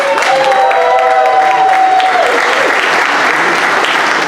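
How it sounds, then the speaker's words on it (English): Dense audience applause for the GWAG Georgia president at a maternity fundraiser, loud and sustained throughout, with a brief sung or voiced tone drifting over the clapping early on. "I want you to give her a round of applause."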